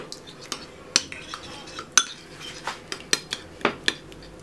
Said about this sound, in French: je vais mettre un peu de concentré de tomate que je vais diluer dans un peu d'eau